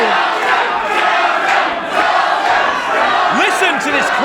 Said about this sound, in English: Listen to this crowd here.